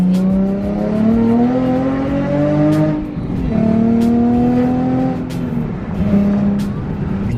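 Nissan 350Z with a newly installed aftermarket exhaust revving up and settling back in repeated cycles, a close, steady engine drone rising and falling in pitch.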